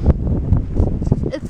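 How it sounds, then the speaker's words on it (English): Wind blowing outdoors, gusting across the microphone as low buffeting noise under a voice talking throughout. "It's so windy."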